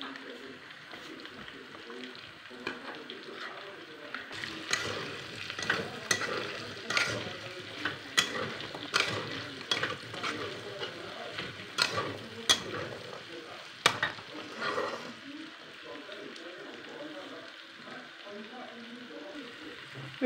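Onions frying alongside potatoes in a pan for a boiler chicken curry, with a steady sizzle broken by repeated scraping stirs of a spatula and some voice in the background.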